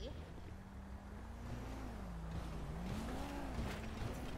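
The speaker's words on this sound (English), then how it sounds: "Oh my God, his loud ass bike." A motorbike engine in the GTA 5 video game drones low and steady, its pitch wavering slightly, heard quietly in the background for a few seconds.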